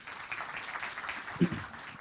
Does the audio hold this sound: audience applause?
yes